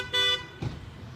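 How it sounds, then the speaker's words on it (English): A neighbor's car horn gives one short, fairly loud honk outdoors on a sunny day while a car and truck are being hand washed and waxed, followed by faint background noise. "There's a neighbor honking at me."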